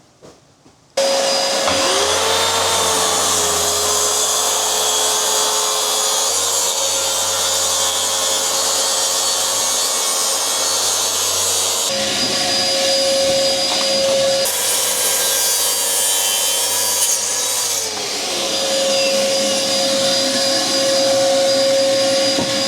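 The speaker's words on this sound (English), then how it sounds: "Flipping hose fell out again." A dust extraction unit runs loud and steady with its hose fallen out, a strong whooshing roar with a whining tone that dips and shifts partway through, starting abruptly after a brief quiet moment.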